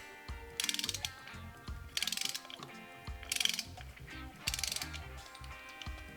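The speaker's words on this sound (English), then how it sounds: "And we're gonna torque spec it. You have 25 to 35 inch-pounds in this one." A ratcheting torque wrench tightening derby and timer cover bolts on a motorcycle engine to 25 to 35 inch-pounds, four close, crisp bursts of rapid clicks separated by short pauses.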